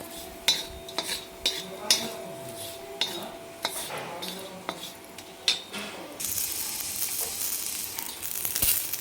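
Black stone flower being dry roasted in a pan for a homemade masala, with repeated clinks and scrapes of a spoon against the metal followed by a steady crackling sizzle.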